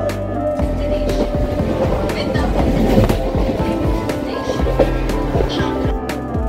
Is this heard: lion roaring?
no